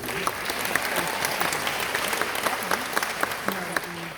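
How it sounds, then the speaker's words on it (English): A live audience at an indie publishing conference gives a steady round of applause, dense clapping filling the room for several seconds with a few louder claps standing out and faint voices mixed in. "Can we get a round of applause for E.L. James, please?"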